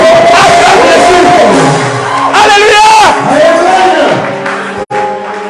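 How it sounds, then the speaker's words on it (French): Church congregation at a French-language seminar service cheering and shouting in acclaim of Jesus, a loud continuous crowd roar with raised voices and whoops, a preacher's voice over it. "si tu es reconnu du ciel, acclame Jésus. Acclame Jésus. Acclame Jésus."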